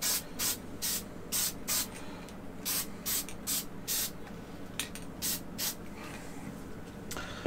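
An aerosol can of Testors Dull Coat sprays in short bursts at a hobby model-painting bench, about a dozen quick hissing puffs in an irregular rhythm, close and fairly loud, with no talk.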